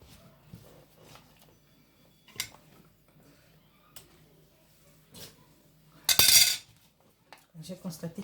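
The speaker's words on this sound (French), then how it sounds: "Alors, je fais un mélange." Utensils clink and scrape in a bowl while black soap is mixed, with scattered soft taps and one louder, longer scraping burst near the end, close and fairly quiet.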